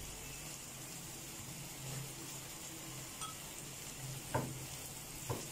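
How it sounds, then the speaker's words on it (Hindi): Mooli paratha frying in ghee on a pan gives a soft, steady sizzle at low volume, with a couple of brief clinks from the pan near the end. "इसको आराम से पलट लेंगे और इस साइड पे भी थोड़ा सा घी लगा देंगे।"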